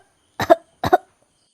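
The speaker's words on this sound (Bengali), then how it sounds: "তোমার তো বেশ কাশিটা বেড়েছে দেখছি।" A mother character in a Bengali cartoon gives two short, close coughs, each a quick double burst, separated by a brief pause against silence.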